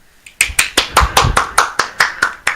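Sharp, steady handclaps ring out close and loud, about a dozen in an even rhythm with no talking.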